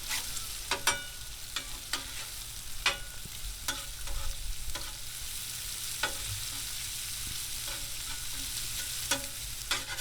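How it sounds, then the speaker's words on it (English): Steady sizzling of bacon and sausage frying on a hot Blackstone griddle, with sharp scraping and stirring clicks scattered throughout, close and fairly quiet. "So we break it up and just let it relax and sizzle"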